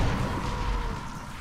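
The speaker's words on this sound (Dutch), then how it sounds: "Zie de explosie!" A large explosion in the zombie game Dying Light, a loud, dense rumbling boom with a sustained roar that holds steady and slowly fades over about a second and a half.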